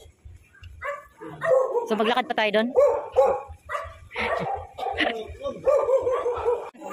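An angry street dog barks and yips in short bursts outdoors while people talk over it nearby.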